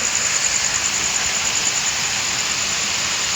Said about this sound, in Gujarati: ફૂલ વરસાદ ચાલુ થઈ ગયો અચાનક.